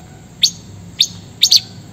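A songbird gives four short, bright chirps, the last two in a quick pair, clear against a quiet background.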